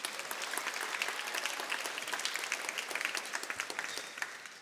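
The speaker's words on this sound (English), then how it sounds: "Let's give these kids a round of applause." A crowd applauds kids after their pitches at the YEABR Pitch 2026 event, a continuous, fairly distant spatter of many hands that stays even before thinning slightly at the end.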